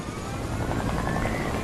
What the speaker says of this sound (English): Then I hijack said helicopter